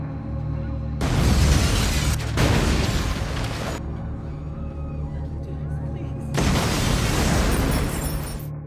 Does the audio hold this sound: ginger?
no